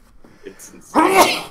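A single loud, sharp sneeze bursts out right after a brief spoken remark in a casual podcast conversation.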